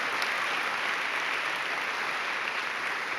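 A church congregation applauding loudly during a Spanish-language sermon, a continuous dense wash of clapping at an even level.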